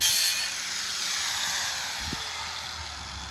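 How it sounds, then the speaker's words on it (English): Old paint and rust being scraped off an LG washing machine outdoors, a steady, continuous rasping hiss with no talking. "Started scraping away the old paint and rust."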